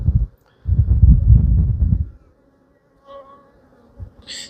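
Honeybees buzz at an open hive during frame inspection on a windy day, a close low drone in two bursts with brief quiet between and faint higher tones near the end.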